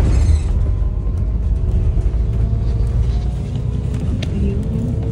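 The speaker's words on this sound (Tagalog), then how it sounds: "So, nandito na tayo sa bus," Steady low engine rumble and road noise from inside a moving city bus, continuous and fairly loud throughout with faint rattles, with no talking.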